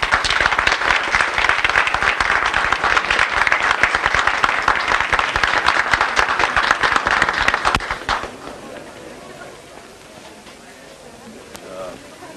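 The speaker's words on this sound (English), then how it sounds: "Who was that applause for just as I came in?" A theatre audience applauds a minstrel show performer, a dense, loud wash of clapping that runs steadily for about eight seconds, then cuts off sharply into quiet room murmur.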